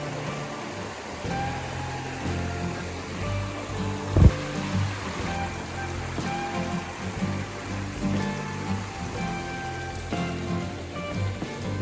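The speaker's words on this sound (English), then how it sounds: "you have this creek, Basin Creek." Basin Creek runs at a free camping area in North Carolina, a steady, close rushing and babbling of water with one brief louder knock partway through.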